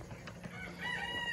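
Farm chickens cluck over a low background murmur, and a rooster's crow rises toward the end. The calls sound moderately close and carry no speech.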